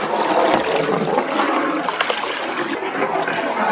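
Cooking water poured into a pot for mutton biryani with yogurt, lime juice and masala, a loud, steady rushing splash that runs unbroken throughout.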